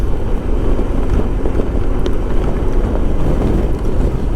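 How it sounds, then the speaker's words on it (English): Strong wind buffets a rider on a 1994 Honda ST1100 Pan European motorcycle, a loud, continuous roar and rumble of wind noise on the microphone that fills the whole stretch without letting up. "Wind is so strong, it's tossing me about side to side."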